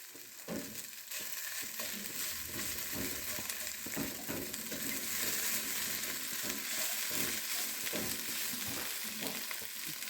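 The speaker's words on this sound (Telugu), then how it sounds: "ఇప్పుడు టమాటాలు వేగినాయి. గోంగూర వేయాలి. డ్రై గోంగూర" Dry gongura leaves fry with softened tomatoes in a pan. A steady, close sizzle runs throughout, broken by repeated stirring scrapes, with no talking.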